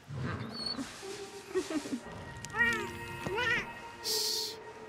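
A cat meows in the video game Monster Hunter Rise, a few short high mews over soft game music and background ambience.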